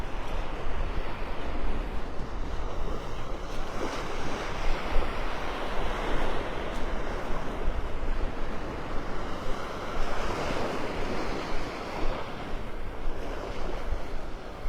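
Surf washing onto the beach at Pelican Bay in North Naples, a continuous rushing wash of waves that swells and recedes, mixed with gusty wind buffeting the microphone, with no voices.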